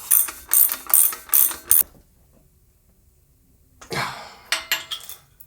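A ratchet tool turns a bicycle part counterclockwise, a standard-threaded piece, during a full build of a Wabi Special bike. A near run of loud, rapid clicks is followed by a silent pause, then a second, looser burst of clicking.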